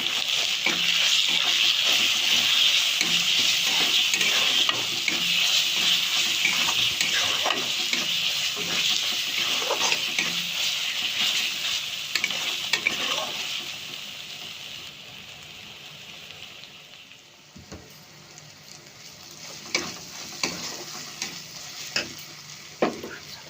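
Spices with coriander and chili powder fry in a pan for a Bengali doi chicken, a loud steady sizzle with scraping stir strokes; the sizzle thins midway, then a few sharp spoon knocks on the pan ring out near the end.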